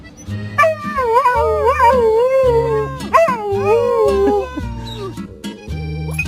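A dog howls in long, wavering, rising and falling cries that swell loudly and fade, over a steady low rhythmic pulse underneath.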